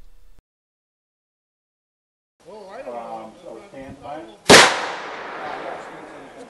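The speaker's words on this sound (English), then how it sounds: "The shooters, in groups of 3, moved along the rope line and fired at a dozen diverse trail walk-like targets." Someone talks, then a single sharp, loud rifle shot cracks at a shooting range with a trailing echo, fired at targets by shooters moving along a rope line.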